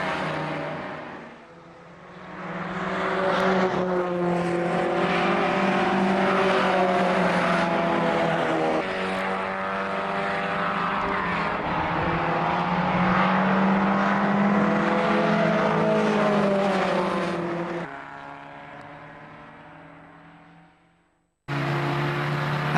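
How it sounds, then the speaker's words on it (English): Historic sports racing cars on a greasy, damp Mallory Park circuit, a small field roaring past in succession with rising and falling engine notes and gear changes, loud and sustained, then a sudden cut near the end. "a small field of cars came out for the sports car race on a greasy track"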